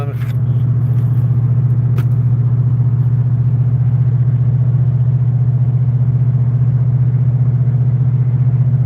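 A car engine drones steadily while driving, a constant low rumble heard from inside the vehicle with a faint click near the start.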